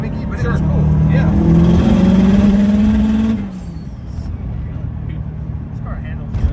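A Subaru STI or Mitsubishi EVO engine drones loudly while driving, rising in pitch as it revs for a few seconds before the throttle lifts and it drops to a lower, steady cruise hum, with people talking inside the car.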